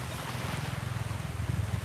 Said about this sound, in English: Wow, you can hear the waves too.